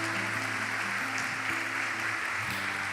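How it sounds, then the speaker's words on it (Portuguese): Church congregation applauding, a soft, even wash of clapping that runs throughout over sustained background music tones. "Vamos dar uma salva de palmas"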